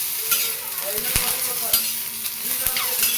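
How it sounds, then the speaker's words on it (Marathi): Green chillies and garlic crackle and sizzle in hot oil, a constant close frying hiss punctuated by regular sharp taps and scrapes of a stirring spoon against the pan, no voices. "चांगलं तेल टाकलं ना भाजून घ्यायचं ह्याच्यामध्ये आणि लसूण पण टाकून घेऊया ह्याच्यामध्ये"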